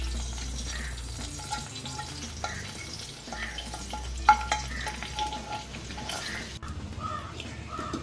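Unniyappam batter mixed with grated coconut and sesame seeds, stirred steadily in a bowl with soft wet scraping and faint sizzle-like texture, continuous and close, with a brief louder knock midway and no talking.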